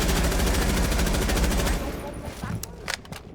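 Gunfire in Rainbow Six Siege: a dense, loud barrage of rapid automatic shots for almost two seconds, then fading into scattered fainter shots and clatter, with a player's voice over it.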